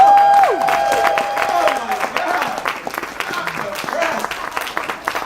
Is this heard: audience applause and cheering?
yes